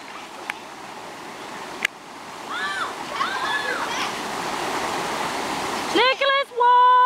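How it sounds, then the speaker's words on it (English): A small creek near a hunting camp runs over rocks with a steady, close babbling and splashing. Voices talk and call out above the water toward the end. "So this is the little creek."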